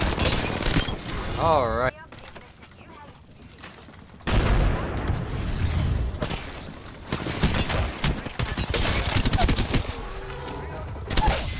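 Rapid R9 submachine gun bursts from the video game Apex Legends, loud and repeated in several dense volleys across the clip, with a player briefly speaking between shots.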